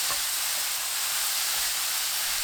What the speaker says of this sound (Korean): 고운 소금 3분의 1큰술 넣고 볶아주세요